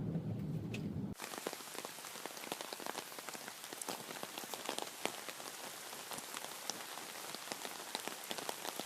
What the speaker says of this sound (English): A rainy day in Georgia.